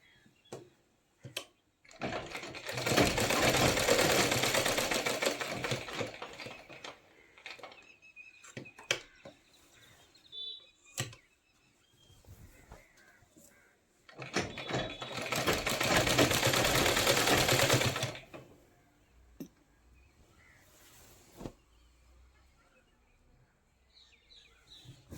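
Sewing machine stitching a Rajputi kalidar lehenga, with two loud bursts of steady whirring of several seconds each, separated by quieter clicks, handling taps and faint ambient chirps.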